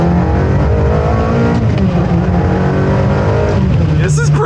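A Ferrari accelerates in second gear from inside the car. The engine note climbs loud and steady, eases off near the end, and a voice is faintly present beneath it.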